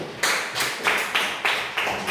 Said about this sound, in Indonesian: tepuk tangan untuk Loren